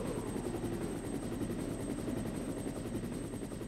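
A helicopter in Resident Evil on PS1 gives a continuous, loud rotor thrum with a steady pulsing chop, alone and unbroken throughout.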